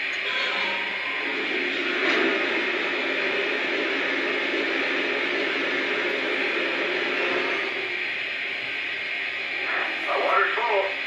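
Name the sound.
Vision Big Boy model locomotive water refueling sound effect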